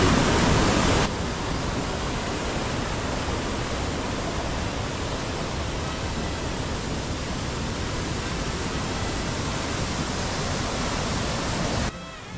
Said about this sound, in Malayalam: ഞങ്ങളുടെ രണ്ട് സൈഡിലൂടെയും വെള്ളം പോകുന്നുണ്ട്